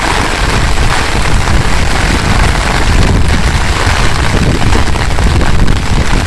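Light drizzling rain falling in a Bangladeshi village during the rainy season, a dense, even hiss with a loud, steady wash of drops and no voices.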